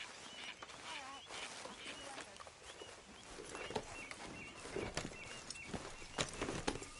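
Horse hooves clip-clop in a steady walking rhythm in Red Dead Redemption 2, faint in the mix, with birds chirping softly in the background.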